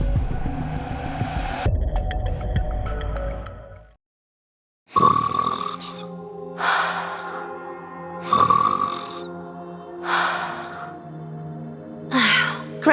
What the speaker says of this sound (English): Gretel and I think Ave's snoring is goddess level. We can hear it all the way from over here.